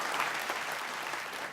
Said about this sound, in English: Come on, put your hands together with them.